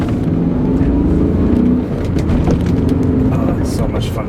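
A BMW E39 M5 engine with a sport shifter rumbles and revs steadily, loud and close, while someone talks over it.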